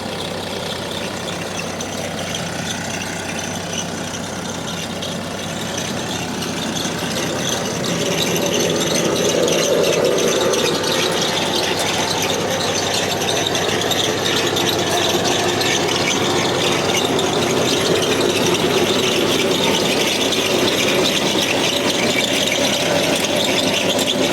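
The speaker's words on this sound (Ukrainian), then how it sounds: "Хочу вам піймати це, що ви і почули, як копалка скрижить і як мотор робить" A steady mechanical drone of a tractor engine with a potato digger scraping, screeching and rattling continuously while harvesting potatoes, growing a bit louder partway through.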